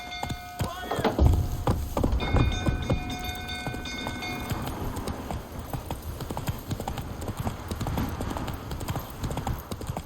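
Hooves of Roach, a horse in The Witcher 3, clip-clop at a steady gallop across the whole stretch, with a few brief tonal game sounds in the first half and a faint voice.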